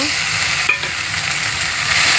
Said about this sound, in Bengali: এবার আমি কাঁচা লঙ্কা আর আদা বাটা এটা ঢেলে দেব।